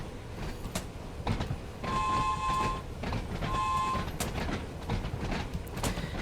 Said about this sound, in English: this is our train in motion